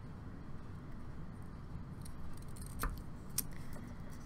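Scissors cut paper squares in half, making a couple of faint, crisp snips over a quiet room background.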